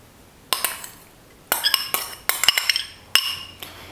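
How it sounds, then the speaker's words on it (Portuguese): A spoon clinks and scrapes in a bowl as green corn is mixed into rice with mozzarella and peas, four separate bursts of stirring with short pauses between them. "Isso aqui agora eu vou misturar bem no arroz."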